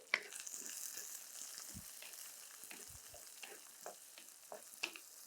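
Onions sautéing in a hot pan until golden, a steady soft sizzle with occasional stirring scrapes and light clicks, close and continuous with no talking.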